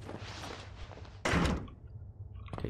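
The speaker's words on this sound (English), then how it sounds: "Close the door." A door slams shut with one loud, heavy thud inside Outlast 2, standing out from a low ambient hum and followed by quieter shuffling.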